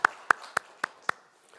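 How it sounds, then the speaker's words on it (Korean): A church congregation claps in worship, five sharp, evenly spaced claps close together at a steady beat, followed by a faint trailing clap. "하나님 앞에 영광의 박수 올려드리겠습니다."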